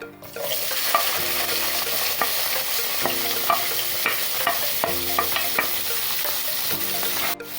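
Chopped onions and fennel seeds fry in hot oil, a bright steady sizzle punctuated by regular metallic scrapes of a spoon stirring the pan, with no speech.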